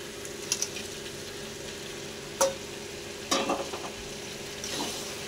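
Fried prawns being added to a simmering ridge gourd curry and stirred, a low steady bubbling sizzle with a few scattered spoon clinks and scrapes against the pot, close and without speech.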